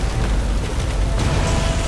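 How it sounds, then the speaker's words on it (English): In Skyrim, a dungeon ceiling is pulled down and collapses with a loud, sustained crashing rumble of falling stone that fills the whole moment, heavy and close, with a sharper burst partway through. "He's pulling down the ceiling!"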